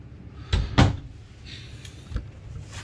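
Storage cabinet doors below the TV spot in a 2021 Arctic Wolf 3770 Suite fifth wheel RV open and shut with a few soft thumps and clacks, quiet and close against faint room noise.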